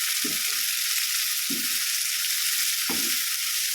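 Carrot and cabbage sautéing in a pan for oats upma, a loud, constant hiss of frying with three dull thuds of stirring spaced about a second and a half apart, close up and without speech.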